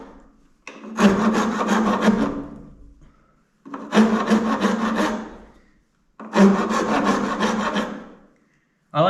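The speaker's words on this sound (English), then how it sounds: "I like wood rasps. They really do remove wood very, very quickly." A wood rasp files a wooden knife handle in three long, loud, close rasping strokes, each a sustained coarse scrape with a short pause between, and no talking.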